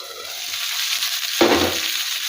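Para fish frying in hot oil in a pan, giving a steady broadband sizzle with a brief louder crackle partway through as the pieces are stirred or moved.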